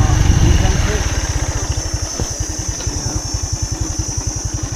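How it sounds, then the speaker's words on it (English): Moped engine while riding in Thailand, a close, steady rapid putter with regular pulsing beats, running continuously and slightly louder at the start. "So anyways, on the moped."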